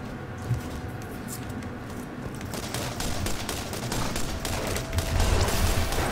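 Rapid bursts of automatic gunfire in the video game Borderlands, dense overlapping shots firing continuously and growing slightly louder, with no voices over them.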